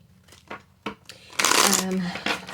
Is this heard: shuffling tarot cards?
yes